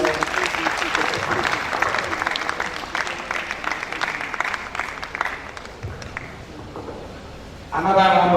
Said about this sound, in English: Another round of applause for Professor Babalola